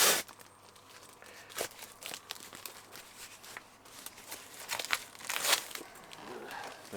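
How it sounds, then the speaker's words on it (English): A cardboard Amazon box is crushed and unpacked up close, with a run of crinkling, crackling and tearing rustles that swell and fade in irregular bursts. "I don't like the way it's being crushed so much."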